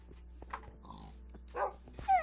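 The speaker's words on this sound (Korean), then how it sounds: "누구 멍멍이야 대체?" A dog barks in a Minecraft-style lucky block race game, a few short, fairly quiet yelps spread across a couple of seconds alongside scattered game effects, with no talking.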